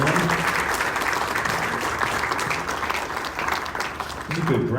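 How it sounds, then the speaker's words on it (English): Audience applause fills a sheriff runoff debate hall, a steady dense wash of clapping hands that holds loud and even for nearly five seconds, with a brief dip near the end. "Give them all a round of applause for round one."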